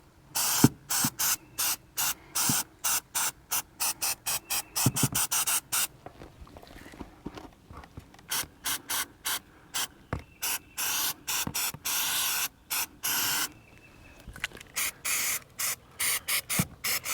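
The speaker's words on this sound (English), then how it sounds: "Let's get this sprayed so we can get out of here." Spray can hissing in a rapid run of short on-off bursts, close and loud, filling a masked gap on an outdoor project, with brief pauses between clusters of sprays.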